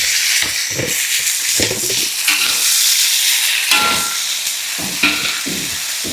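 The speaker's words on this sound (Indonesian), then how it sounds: "Di sini aku mau tumis toge aja dulu. Bawang sudah wangi, masukin toge." Bean sprouts being stir-fried in a pan with fragrant garlic: a steady, close sizzle with repeated scraping stirs and tossing bursts throughout, no voices.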